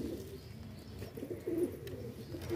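A pet pigeon coos softly at close range, giving a few low, throaty, rolling calls with short pauses between them against a quiet background.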